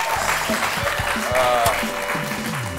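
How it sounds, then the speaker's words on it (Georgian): A studio audience at a Georgian TV game show final applauds in a continuous, moderately loud wash of clapping, with bright tonal studio sounds and short rhythmic thumps running through it. "აპლოდისმენტები"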